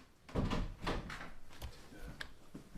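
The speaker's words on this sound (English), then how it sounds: "Close the bathroom door." A bathroom door closing nearby, heard as a few close, solid knocks and thuds from the door and latch spread over a couple of seconds.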